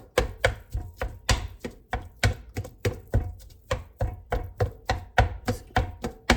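About half a pound of beef is chopped on a cutting board for chili cheese fries and nachos, a brisk, regular run of close knife strikes at roughly two to three per second with no talk.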